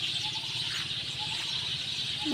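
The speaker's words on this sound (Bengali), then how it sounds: "উঠতেছে আর কিচির মিচির শব্দ" Sparrows gather and settle to roost, their faint, dense chirping forming a steady twittering wash over background hiss, with no single call standing out.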